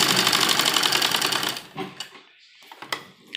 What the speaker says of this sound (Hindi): एक सिलाई हम इधर लगाएंगे और एक सिलाई हम इधर लगाएंगे।